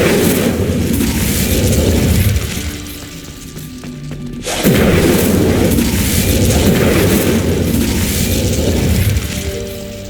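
Incendio fire spell cast in Hogwarts Legacy, a loud roaring blast that swells, dips briefly, then surges again into a sustained rumbling burst.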